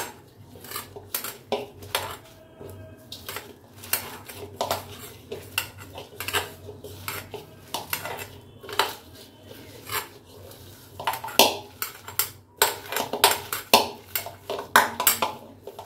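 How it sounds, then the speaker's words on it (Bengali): Food mixed with salt, turmeric and black cumin in a metal dish, giving repeated scraping clinks and taps of utensil against bowl in uneven bursts, close and without talk. "এবারে এইটাকে মাখিয়ে নিই ভালো করে।"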